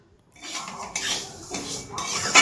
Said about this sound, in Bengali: মুগ ডালটা আমরা হালকা ভেজে নেব